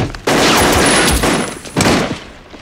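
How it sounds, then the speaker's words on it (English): A bazooka fires in the 1976 film The Enforcer: a sudden loud blast with a long roaring tail, then a second heavy burst about a second and a half later that fades away. "Wait, he's gonna blow it up. That's the big bazooka gun."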